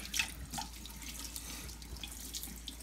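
Running tap water splashes steadily into a sink while a gutted rainbow trout is washed out, a soft continuous rush with small splashes and drips, close by and alone.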